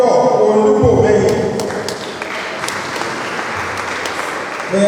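An audience applauds at an orientation workshop for newly recruited university staff, a loud burst of clapping at the start that settles into steadier, slightly softer applause, with some voices mixed in.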